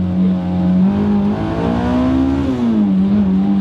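A supercharged Honda S2000 engine drones loudly and close as traction control cuts in, its pitch holding steady, rising briefly, then dipping, sustained throughout with no voices.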